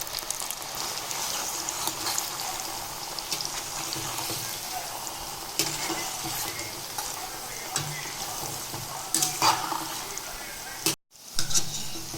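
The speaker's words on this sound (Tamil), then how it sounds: "இப்போ வேக வச்ச சேனக்கிழங்கு பொரிச்சு எடுத்துக்கலாம்." Steady crackling sizzle of boiled yam pieces deep frying in hot oil, continuous and close, with occasional louder pops and a brief stir near the end.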